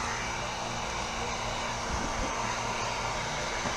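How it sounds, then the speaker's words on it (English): A handheld heat gun blows hot air steadily over vinyl wrap on a Can-Am Ryker. The airflow is a constant, close broadband whoosh with no breaks for the whole stretch, and no one speaks. "I've been doing wraps for years, so I'm comfortable using a heat gun like this."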